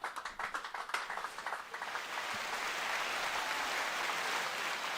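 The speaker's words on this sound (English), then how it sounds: "Big applause for Jeremy." Spectators at a Hong Kong XI versus Marylebone Cricket Club match applaud a batsman's fifty, with sparse distinct claps first, then a steady, faint wash of distant applause and crowd noise.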